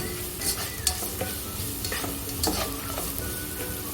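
Garlic and ginger fry in hot oil for chilli gobi manchurian gravy, a continuous close sizzle with busy stirring and scraping in the pan, no voices.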